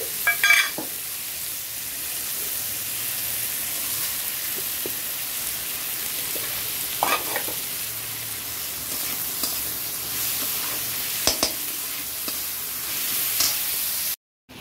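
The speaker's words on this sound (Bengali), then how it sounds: "এখানে আলুটা ভাজা হয়ে গেছে দেখো, আর এই যে এখানে পেঁয়াজটাও ভাজা হয়ে গেছে।" Potatoes and onions fry in a pan with very little oil and a pinch of sugar, making a continuous sizzle broken by several brief scraping stirs, with nobody talking.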